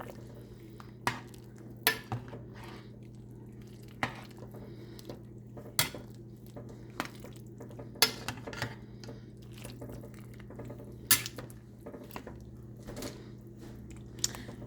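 Jamaican brown chicken stew being stirred in a pot: repeated sharp clinks of a utensil against the pot at an irregular pace, with soft wet mixing sounds between them, close and fairly quiet.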